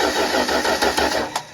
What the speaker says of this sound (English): Let's try and crank it over and see if she'll fire up.